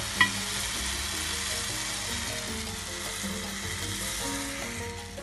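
Lukewarm syrup poured over a hot baked semolina dessert, producing a steady hissing sizzle that continues evenly throughout, close and moderately loud, with a faint tap at the start.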